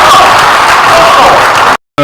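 Audience applause at a French public ceremony or meeting, a dense, loud, steady wash of clapping with a few cheers mixed in, cutting off abruptly near the end.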